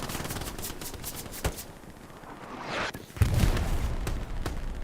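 Machine gun fire from a mounted bunker MG in an online WWII-style multiplayer shooter, heard as rapid repeated bursts spread through the clip with a louder, denser burst near the end.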